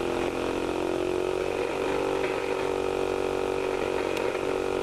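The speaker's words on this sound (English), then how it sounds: "The motor is now connected to the circuit and it spins." Small electric motor spinning while powered by a high-voltage circuit that harvests ions from the air, a steady buzzing whine with a faint rapid pulsing from a spark gap, continuous and close, with no talking.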